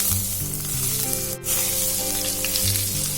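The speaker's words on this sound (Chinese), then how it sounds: "起锅放入葱油，用热油激香" Hot scallion oil poured over chilled bitter melon sizzles loudly and continuously, a dense close crackling hiss that dips briefly midway before surging again.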